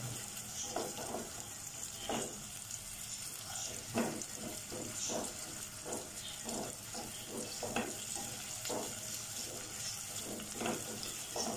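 Onions fry in a pan for a bhindi gosht salan, a soft steady sizzle under repeated scraping stirs at a regular rhythm, faint and close.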